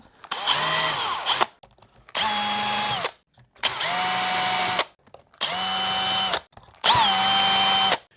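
A power drill bores 4 mm holes into a Stratocaster-style guitar body in five separate whirring bursts, each about a second long with short pauses between, loud and close with no talk.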